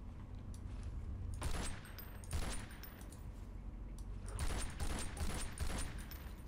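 Gunfire rattles in the video game Dead Island as several quick bursts of shots, fairly faint and spread across a few seconds.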